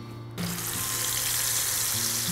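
Ground spice paste for balado sautéed in hot frying oil, a steady broadband sizzle that starts abruptly after a brief quiet moment and holds close and loud, with a low hum underneath.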